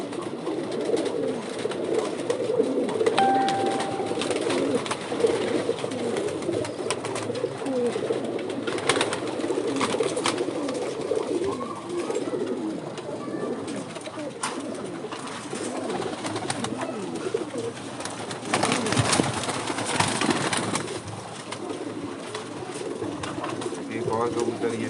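A flock of kept pigeons coos continuously on a rooftop, the low burbling calls layered and close, with occasional rustles and handling noise and someone speaking intermittently over them.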